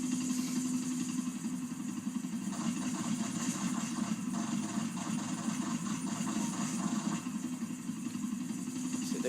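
A vehicle engine in the video game GTA 4 drones steadily and continuously at a fairly even pitch for the whole stretch, a mid-range motor hum with no talk over it.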